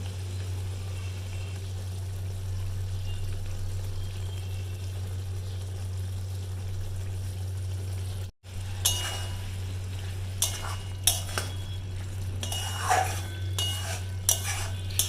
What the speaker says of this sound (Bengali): বাসন আছে এখন মাজবো।